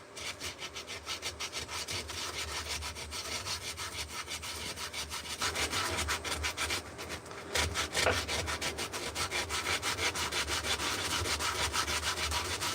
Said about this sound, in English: use these things here, sanding belts, and I just move them around the edge and sand